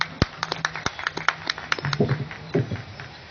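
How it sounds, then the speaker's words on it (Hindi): Applause from an audience at a Hindi poetry gathering, a short burst of claps and taps, moderately close and loud, fading after a few seconds. "एक बार जोरदार ताली बजाइए।"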